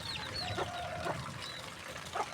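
Backyard chickens, including some left wet after rain, cluck softly with occasional higher calls. The clucking is quiet and somewhat distant against a steady background hiss.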